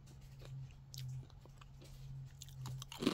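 Crunchy Sonoma Creamery pepperoni pizza crisps being chewed up close, with repeated hard biting crunches over a low steady hum, and a louder crunch at the end.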